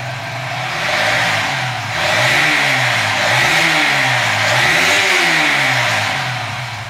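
A Suzuki FU 150 FI motorcycle engine fitted with a GSX injector runs loud and close at mid RPM, its steady drone rising and falling through several smooth revs.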